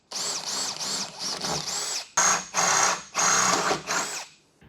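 Holes are drilled into a 4x4 roof with a power drill for a roof rack install, heard as a rapid series of short close whining bursts with the pitch rising and falling, followed by several longer drilling runs, no voices.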